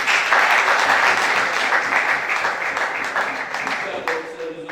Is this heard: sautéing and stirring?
no